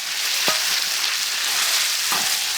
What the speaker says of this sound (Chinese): 把这鸡肉啊下去炒一下